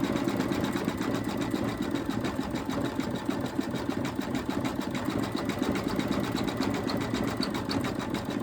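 An embroidery machine stitching satin stitches on an Easter bunny appliqué, running in a steady rapid mechanical rattle with fine rhythmic pulses, moderately loud and close, with no speech over it.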